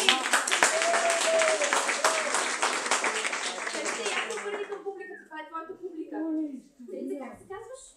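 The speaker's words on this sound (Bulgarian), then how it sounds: "Така, аплодисменти!" An audience at a stage show claps steadily for about five seconds while a voice talks over it, then the applause dies away and speech continues alone.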